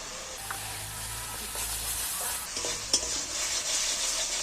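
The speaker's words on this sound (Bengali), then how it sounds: "এইবার ভালো করে মশলাটাকে আবারও কষিয়ে দিচ্ছি।" Masala is sautéed in a pan for egg chilli, with a continuous soft sizzle and repeated scraping stirs of a spatula, close and moderately quiet, with no speech.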